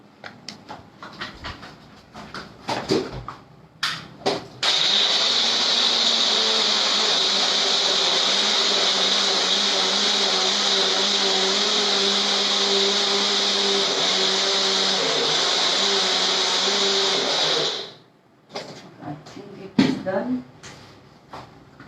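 A kitchen blender whirs steadily for about thirteen seconds, mixing a thick, chilled milkshake made with Amul cream and ice cubes, loud and continuous between brief clatter and movement before and after.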